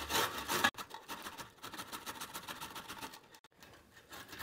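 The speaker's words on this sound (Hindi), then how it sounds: "गोभी का स्टफिंग बनाने के लिए सबसे पहले हम गोभी को कद्दूकस करेंगे" Cauliflower florets rubbed against the fine holes of a kitchen grater, a quiet steady rasping scrape in rapid strokes, briefly louder at the start, with no talk.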